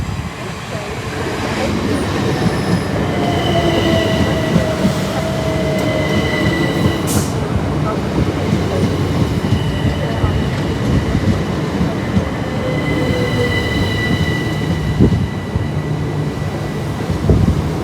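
A Southeastern train passes through Borough Green station with a loud, continuous rumble and rolling wheel noise, occasional faint squeals and clicks, heard close and steady throughout.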